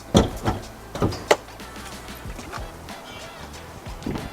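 The door of a Zeekr 001 electric car closes automatically: a few sharp mechanical clunks and thuds come close together at first, followed by a quieter motorized whir and a final soft click.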